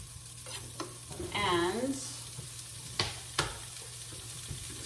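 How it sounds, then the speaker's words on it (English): Pancetta crackles in a pan under loud scraping stirs, with a few sharp knocks of the utensil against the pan and a brief spoken word partway through. "we got some pancetta going here"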